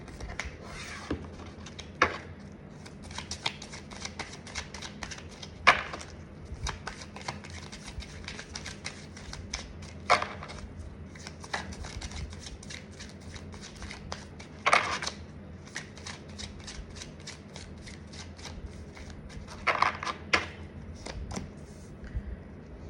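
Tarot cards are shuffled and drawn, a soft continuous rustle broken by sharper flicks and snaps of cards every few seconds, close and fairly quiet with no talking.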